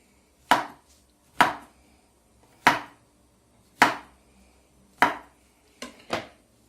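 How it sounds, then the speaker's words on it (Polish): A knife cuts button mushrooms on a board in sharp, evenly spaced chops about once a second, ending with two quick cuts close together. The sound is close and clear, with no speech. "I kroimy tak każdego jednego grzyba."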